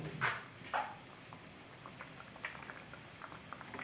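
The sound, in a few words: liquid boiling in a pan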